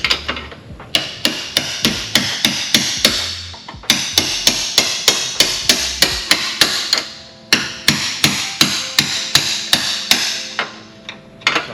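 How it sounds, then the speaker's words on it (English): Steady hammer blows drive a bolt into a Porsche 996/997 axle assembly at the lower control arm, loud, close metallic strikes in quick regular runs of about six to eight hits, separated by short pauses. "Pounding in this bolt."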